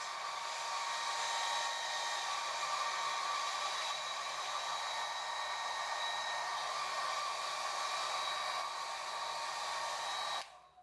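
A hair dryer blowing steadily over a wet watercolour painting of a kitten, a constant close whooshing roar with a faint motor whine that runs unbroken for about ten seconds before cutting off abruptly.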